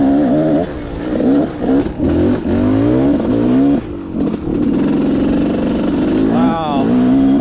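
A Gas Gas 300 dirt bike engine revs hard while being ridden, its pitch repeatedly climbing and dropping through gear changes, loud and close throughout.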